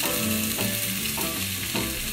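Stuffed chicken breast with spinach and cheeses frying in a pan, a loud, steady close-up sizzle with faint shifts as the pieces settle, and no talking.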